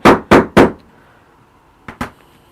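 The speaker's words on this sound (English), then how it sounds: "Hammer." A hammer strikes a hole punch into card on a desk: three sharp, loud blows in quick succession, a pause, then two lighter taps, with no talking.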